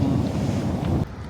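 Stormy Black Sea shore at Batumi, with steady roaring wind buffeting the microphone over broad rushing surf, loud and continuous, easing slightly near the end.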